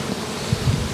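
Honey bees from swarms being moved into permanent hives buzz in a steady, close drone, a continuous low hum with no voices.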